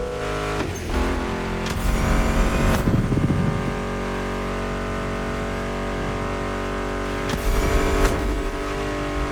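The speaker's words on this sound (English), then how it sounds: "Meshes well with the sound of the engines, you feel me?" Muscle car engines rev in The Crew Motorfest, a continuous droning roar with several sharp revving bursts rising above it, layered over steady tonal background sound.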